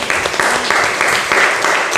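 Steady, dense applause fills a classroom from a group of students and teachers, a continuous loud patter of many hands clapping without pause.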